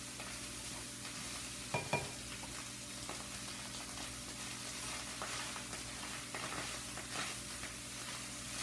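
Rice stirred into a bean mixture in a pan, a low continuous sizzle with soft scraping and a couple of sharper knocks of the spoon, close but quiet.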